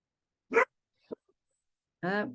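A small pet dog at home gives a couple of short, quiet barks and a faint yip, separated by silence, close by and fairly soft.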